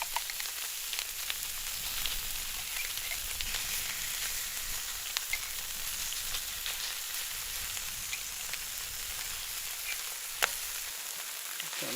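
Barbecue meat sauced with barbecue sauce sizzles steadily on a griddle, a constant close crackle and hiss with faint stirring scrapes and no talking.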